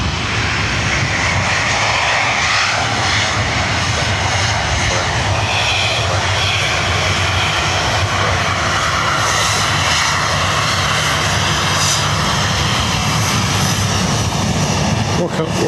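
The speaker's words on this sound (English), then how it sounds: "this Ryanair coming here is going to Marrakesh" A Ryanair jet at Dublin Airport, departing for Marrakesh, roars loudly and continuously with broad engine noise throughout. Someone talks over the sound.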